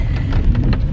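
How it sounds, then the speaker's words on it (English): Heavy rain falls outside on a wet street, a dense continuous hiss with a low rumble underneath and no voices. "It's raining cats and dog all night, and it will be raining into tomorrow."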